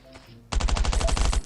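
Rapid automatic gunfire from the survival video game Last Island of Survival, one loud sustained burst of evenly spaced shots that starts abruptly after a quiet moment.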